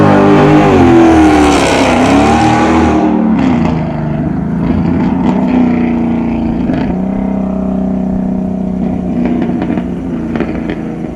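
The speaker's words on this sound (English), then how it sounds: "So technically speaking, this isn't a straight pipe exhaust, but it doesn't have any mufflers or resonators or anything like that." A V8 Hemi with an exhaust that has no mufflers or resonators roars loudly up close, revving hard at first and then settling into a deep, steady rumble that fades slightly as it keeps running.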